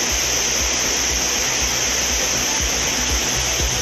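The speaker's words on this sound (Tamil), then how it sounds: "மேற்கு தொடர்ச்சி மலைப்பகுதிகளில் பெய்த மழையால் குற்றாலத்தில் ஆர்ப்பரித்து கொட்டும் தண்ணீர்" Heavy runoff from rain in the Western Ghats pours down the falls at Courtallam. It makes a dense, constant roar of rushing water, loud and close from start to finish with no break.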